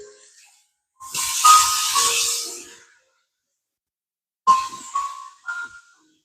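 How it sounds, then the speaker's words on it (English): Vegetables stirred in a cooking pot for potato corn chowder, giving a loud steamy hiss for over a second, then quieter bursts of sizzling and scraping a few seconds later, with no talking. "I'm going to go ahead and stir my veggies and see where we are with those"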